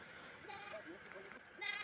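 Goats bleating at a backyard farm, several short, wavering calls rising and falling over about two seconds, fairly faint and close, with a louder bleat at the end.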